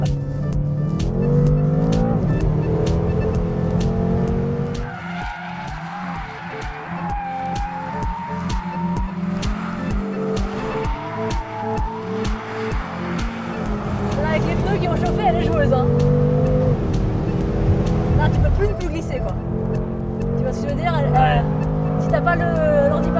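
A car lapping a track with fading brakes and hot tyres slides through corners, its engine droning and revving loudly with tyre squeal, while two people talk in French over it throughout.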